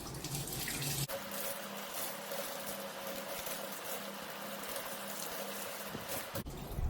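Tap water runs into a sink while turmeric-dyed fabric is rinsed, a steady close hiss and splash that starts abruptly, continues evenly for several seconds, then cuts off.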